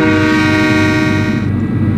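A TGV high-speed train in the Trainz A New Era simulator, running on the NEC corridor, sounds a loud sustained horn chord over steady rolling rumble, close and unbroken throughout.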